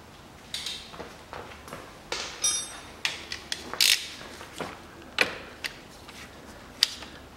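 A 14 mm bolt is worked loose on a 2005 Mitsubishi Minica 0.6 during an automatic transmission oil pump seal job, producing a close series of irregular metallic ratchet clicks, taps and creaks with short pauses between bursts.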